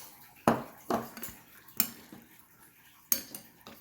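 Chili being mixed with shredded cheese and green onion, heard as four or five distinct metal spoon clanks and scrapes against a pot, close and uneven, with quiet gaps between.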